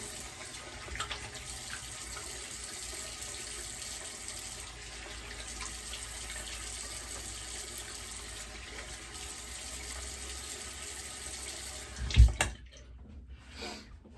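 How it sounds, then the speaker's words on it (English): Tap water runs steadily into a basin, switched to cold, during a wet shave, a continuous close hiss that carries on for about twelve seconds before the flow stops with a brief knock and a quiet tail. "water switched over to cold"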